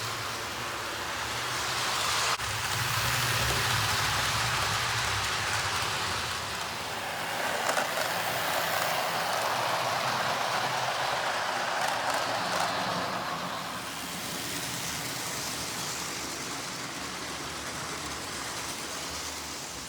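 A Jouef TEE model train runs fairly fast along a workbench track, giving a steady, loud, noisy rumble and whirr that swells and eases slightly over the whole stretch without any talking.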